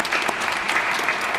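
Audience at the Jim Dailey Indoor Swimming Pool reopening gives a round of applause, dense continuous clapping from a crowd at steady volume, with a few sharper individual claps standing out.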